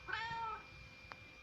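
A cat lets out a single drawn-out meow near the start, fairly close and clear, followed by a couple of brief soft clicks against quiet room tone.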